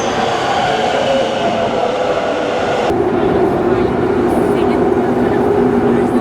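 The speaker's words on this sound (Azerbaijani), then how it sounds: "Metrolar da gəldi." An Istanbul metro train pulls into a station with a loud, continuous rumble and rail roar that shifts in tone midway as it slows, while faint voices murmur on the platform.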